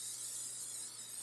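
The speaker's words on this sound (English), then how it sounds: "Spray the top and bottom." Cooking spray is misted onto a hot waffle maker for Mickey waffles, giving a steady, soft hiss that runs unbroken throughout.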